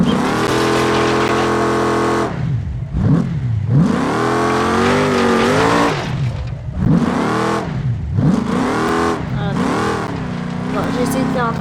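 Car engine in the BeamNG.drive video game revving and whining up and down in pitch as the car drifts and spins, loud and continuous with brief drops between surges, a voice talking over it at times.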